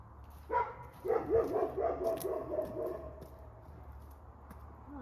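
Several dogs bark in a loose burst of yips and woofs from a fair distance, strongest in the first few seconds before tailing off, over a low steady hum of outdoor background.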